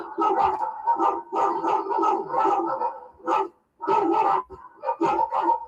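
Several dogs bark rapidly and loudly in bursts, close by, with yips and a howling edge, broken by a short pause midway.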